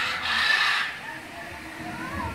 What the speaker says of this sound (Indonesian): Burung beo.